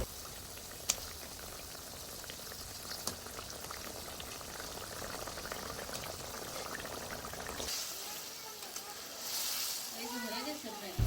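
Rohu fish curry gravy with onions bubbles steadily in a pan, a soft continuous boil with faint pops and a brief change in texture near the end, quiet and close, no voices.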